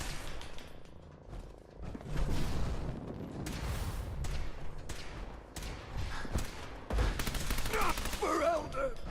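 Rapid gunfire in a Fallout 4 firefight comes as sharp repeated cracks and bursts in the foreground over a busy game soundscape, with a shouted voice early on.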